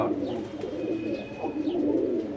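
Pigeons kept for sale coo in soft, repeated low rolling phrases, fairly close, with a faint steady background hum and no talk.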